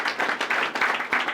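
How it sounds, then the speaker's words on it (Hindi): A classroom of students applauding together, a dense, steady patter of hand claps at moderate distance with no talk over it. "बजाओ ताली भाई"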